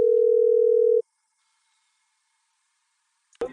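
A steady telephone dial tone sounds loud and alone for about a second at the start of an outgoing call, then cuts to silence, followed by a brief burst of noise at the end.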